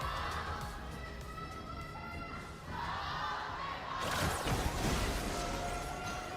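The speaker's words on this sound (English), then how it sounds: "Here now, we can hear the rumble by the crowd. They're cheering now." A dense esports arena crowd rumbles and cheers during a best-of-seven grand final of Honor of Kings, the roar swelling louder partway through with rhythmic hits like drums mixed in, a broad wash of many voices with no single speaker standing out.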